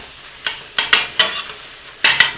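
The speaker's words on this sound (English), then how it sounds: "Now just get your sausage all cooked up" Sausage cooking in a frying pan for a breakfast casserole: a soft sizzle underneath, broken by about half a dozen sharp scraping, stirring knocks of a utensil against the pan, close and fairly loud.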